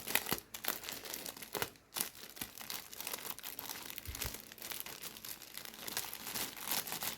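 Plastic wrapping on a Temu parcel crinkles and rustles up close as it is handled and pulled open, in irregular bursts with a couple of sharper snaps.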